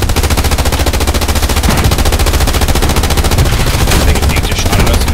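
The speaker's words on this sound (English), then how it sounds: "I think he just shot at us and missed." Loud, continuous machine-gun fire rattles in the World War II shooter Hell Let Loose, with rapid evenly spaced shots sustained over several seconds and sharp reports mixed in.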